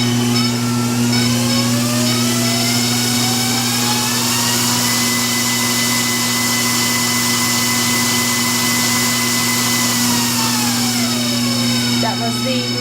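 A FAK sock knitting machine by Lawson Hemphill runs at maximum speed, making a loud, steady mechanical whir with a constant low hum and rising and falling whines, with talking over it.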